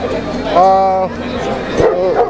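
A dog gives a drawn-out yelping bark, then a shorter yip moments later, amid background crowd noise and talking.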